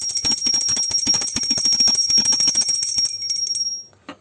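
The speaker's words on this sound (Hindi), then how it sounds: "तो अब हम घंटी बजा देंगे और लगा देंगे भोग।" A small prayer bell rung by hand during a food offering to Laddu Gopal, struck rapidly and repeatedly in a bright continuous jingle for several seconds before it stops and fades, with no voices.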